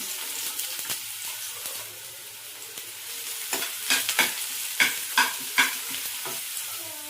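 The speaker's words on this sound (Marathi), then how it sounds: "तेल तापलं की त्यात आपल्याला टाकायचं आहे कांदा" Onion fries in hot oil for egg shakshuka, a continuous near sizzle with a run of sharp scraping strokes of a spatula against the pan in the second half.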